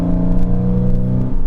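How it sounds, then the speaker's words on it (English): A 2006 Porsche 987 Cayman S with its 3.4-liter flat-six engine revs loudly and close up, a strong, steady harmonic growl that holds through the short burst with no talking. "it's just so addicting to hit that gas pedal"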